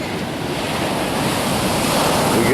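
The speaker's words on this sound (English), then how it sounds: "You're looking at Patsy standing at the shore of the Pacific Ocean" Pacific Ocean surf breaks on the shore at Brookings, Oregon, a loud, steady roar of waves mixed with wind buffeting the microphone, with no voices.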